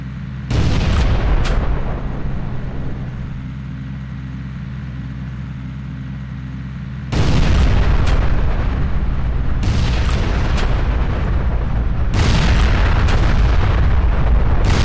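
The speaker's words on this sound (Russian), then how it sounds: "Может почти непрерывный поток взрывов обеспечить" Explosions in the video game Ex Machina come as a loud, nearly continuous barrage of deep booms like artillery fire, easing briefly in the middle and then rising again in dense repeated blasts.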